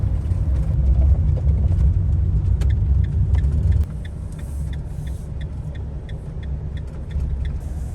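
A camper van driving along a road through Hawes in Yorkshire, giving a steady low engine and tyre rumble from inside the cab, which drops slightly in level partway through.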